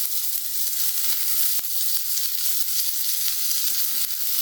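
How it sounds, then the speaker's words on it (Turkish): Rice sizzles steadily in butter in a pan as it is sautéed for pilaf, a close, continuous crackling fry with faint stirring scrapes and no talking. "Pirinçler böyle e, saydam bir renk alana kadar güzelce kavuruyorum."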